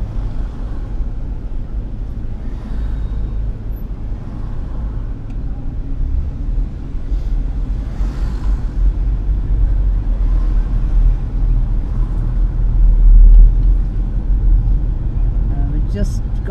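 A car driving along Blackpool promenade past the Tower, its engine and road noise a steady loud low rumble throughout, with a slight swell partway through.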